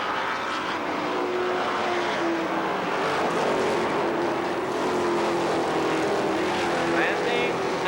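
Race cars roaring around Columbus Motor Speedway on the final lap, a dense and steady wall of engine noise that holds without a break from start to finish.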